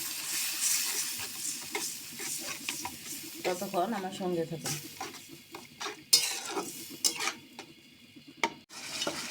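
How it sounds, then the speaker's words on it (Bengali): Spice paste sizzles and scrapes in a pan as it is sautéed with a little water and stirred, with clinks of a utensil and a person talking over the cooking. "পানি দিয়ে মশলাটা ভালো করে কষিয়ে নেব।"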